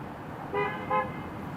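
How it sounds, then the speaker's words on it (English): Two short car horn toots in quick succession, moderately close, over a steady outdoor street background. "somebody is honking their horn"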